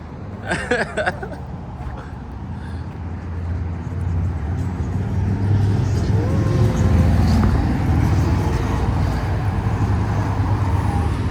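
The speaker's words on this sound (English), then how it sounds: "there's a lot of vehicular traffic as you guys can see" Steady downtown road traffic on a street in Grande Prairie, Alberta, with cars passing in a continuous loud rumble and hiss that builds and stays dense, after a brief bit of talking at the start.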